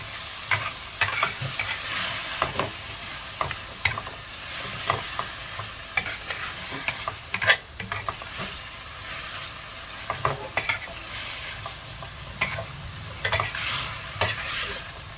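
Pork with pickled bamboo shoots and holy basil stir-fried in a pan, with constant sizzling and repeated sharp clacks of a spatula scraping the pan, close and lively, with no talking.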